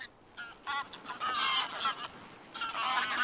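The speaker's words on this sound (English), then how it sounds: "These are mostly grayback geese." A flock of greylag geese honking loudly in the Volga delta, overlapping calls in irregular bursts, close by with no talk.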